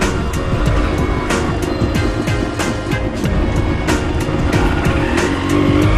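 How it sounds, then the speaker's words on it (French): A 1982 Kawasaki KE/K1/KS 125 two-stroke motorcycle with a loud exhaust runs steadily at close range, its engine note dense and continuous with no pauses. "Je vais entendre ma moto à 10 km à la ronde"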